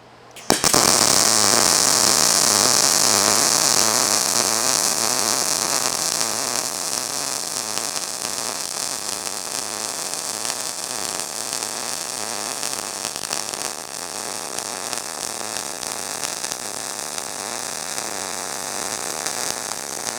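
MIG wire-feed welding on a steel horse feeder joint, a steady loud crackling buzz that runs unbroken for about twenty seconds, easing slightly in level partway through.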